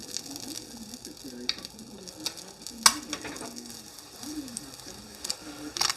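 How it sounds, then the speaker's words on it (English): Ham heats in a frying pan with a soft, steady crackling sizzle, punctuated by scattered sharp ticks and clinks, close and moderately quiet, with faint bird-like chirps in the background. "then I'll heat the ham in the pan"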